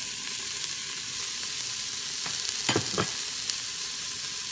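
Onions, carrots and celery sautéing in an Instant Pot, a loud continuous sizzle with a few scraping stirs of a utensil against the inner pot, close up with no talk.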